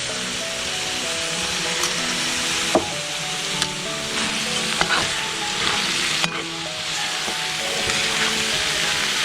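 Sliced onions sautéing with a pinch of salt in a pan, a loud continuous sizzle with repeated clacks and scrapes of a spoon stirring close by.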